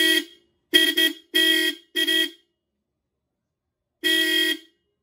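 A fake Bosch Europa car horn is tested from about two feet away. It gives four loud blasts in quick succession, the middle ones longer, then a pause and one more blast, with silence between them.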